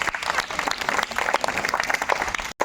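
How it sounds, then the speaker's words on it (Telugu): A crowd claps steadily at a Periyar commemoration gathering while children are praised and handed cups. The applause is close and continuous, with a brief cut near the end. "చప్పట్లు."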